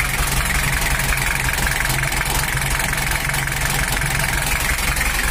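A Toyota Hiace engine idles steadily at close range, a continuous low rumble with a faint rhythmic knock running through it and no talking.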